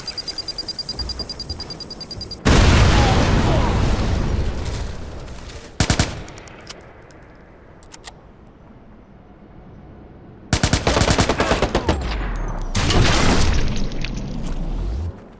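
Gunfire and a grenade blast in the Watch_Dogs video game: a rapid automatic burst, then a heavy booming explosion rolling out, more short sharp shots, and a final close flurry of rapid gunfire.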